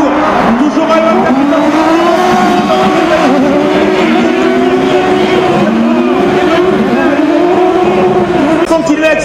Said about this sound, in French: Continuer à accélérer, il a pu y aller 3-4 mètres d'avance sur la Skoda d'Olivier Panis.